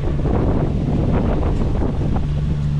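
Steady wind buffeting the microphone aboard a sailboat heading to Catalina Island in about 12 knots of breeze, a constant close roar with faint water noise beneath.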